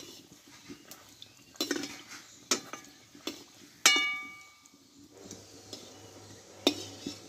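A metal slotted spoon clinks and scrapes against a pan of frying luchi in scattered taps over a soft sizzling background.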